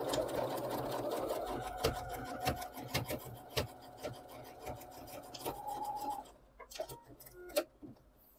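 A sewing machine runs in rapid bursts of zigzag stitching on an English eyelet embroidery corner, a close, fairly quiet whirring broken by short stops and small clicks.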